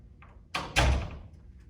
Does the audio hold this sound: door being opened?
yes